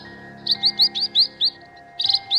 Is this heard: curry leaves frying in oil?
no